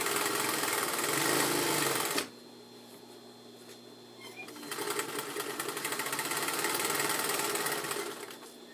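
A sewing machine stitches fabric in a fast, steady whirring run, pauses briefly, then starts up again at a similar even pace, close and moderately loud.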